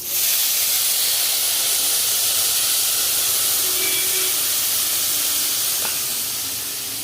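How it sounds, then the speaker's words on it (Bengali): Tamarind water made from about 75 grams of old, dark tamarind hits a hot wok for a prawn sour curry. It produces a loud, sustained steam hiss that holds steady for several seconds before slowly easing. "আমি কড়াইতে তেঁতুল জলটা দিয়ে"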